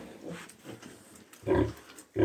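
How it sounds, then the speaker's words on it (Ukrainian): Pietrain piglets grunt and squeal in short bursts close by, with two louder squeals standing out among softer snuffling oinks. "Хочу показати отаких поросят"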